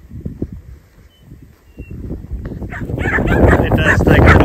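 A working cattle dog barks and yips while mustering cattle in dry conditions, sharp barks coming close and loud and building toward the end, with a person's voice mixed in.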